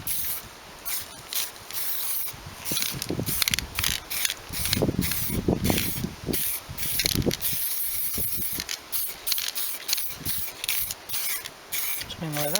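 Rust-Oleum Painter's Touch paint is sprayed from an aerosol can onto a Toyota Carina E barn find outdoors in wind, in short repeated hissing bursts with rattling and a low voice.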